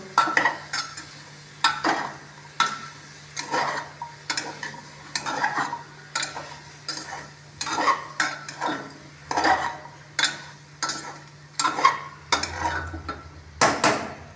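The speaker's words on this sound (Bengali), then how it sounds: "দিয়ে আবারও আমি একবার নাড়াচাড়া করবো" A spoon repeatedly stirs gourd, carrot and potato with a little tomato sauce in a pan, giving rhythmic scraping and clattering strokes about once a second over a faint sizzle.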